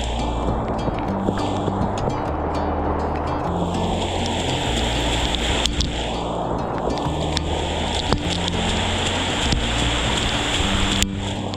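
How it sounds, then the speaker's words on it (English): A continuous rush of river water on a rainy day, broad and steady, with gusty wind noise sweeping over the microphone. "The river flowing down right now."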